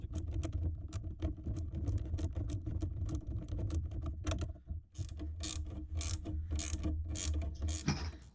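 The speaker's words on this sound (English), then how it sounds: "So we'll now put a washer and a nut on each one." Washers and nuts are tightened onto the bolts of a storage box fitted behind a motorcycle pannier, a close, rapid clicking ratchet over a steady low hum, with a short break midway.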